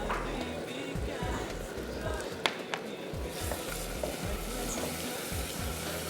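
Garlic paste frying in hot oil in a pan gives a steady, close, dense sizzle throughout, with a few sharp clinks of a utensil partway through.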